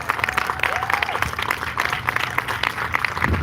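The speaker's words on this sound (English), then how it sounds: "Let's give them a round of applause." Audience applause at a community event honoring organizers, board members and artists, steady dense clapping with crowd noise throughout, fairly loud and continuous.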